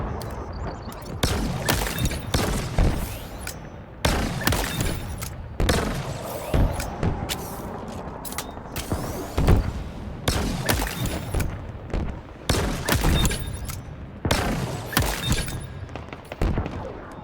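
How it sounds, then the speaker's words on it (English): Repeated rapid gunfire bursts and sharp impact cracks from shock rifle headshots in Halo Infinite during a Big Team Battle match, loud and dense throughout, with a few short pauses between volleys. "such as this moment right here where I chained back-to-back headshots with a shock rifle"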